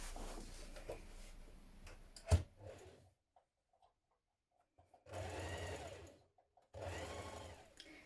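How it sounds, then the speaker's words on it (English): A sewing machine stitches a 6mm seam on trouser fabric in bursts of rapid, close mechanical whirring, separated by short pauses and a few soft clicks. "at the bottom edge we're going to sew it on with a 6mm seam with right sides facing"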